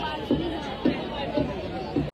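Crowd chatter and a busy hubbub fill the Dadar Shivaji Park art festival in Mumbai, with food stalls nearby. A steady babble of many overlapping voices carries throughout, with a few brief louder bursts.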